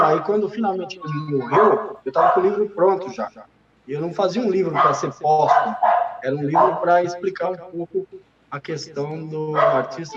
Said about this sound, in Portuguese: Desculpa o cachorro aí